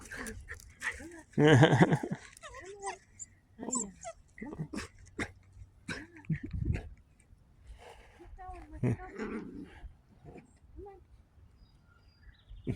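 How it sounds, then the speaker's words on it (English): A small, excited dog whimpers and pants close by in short irregular bursts, with someone talking to it in a friendly voice now and then. "Just a cute dog was excited to see me."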